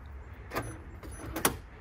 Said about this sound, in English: That satisfying clack of an E39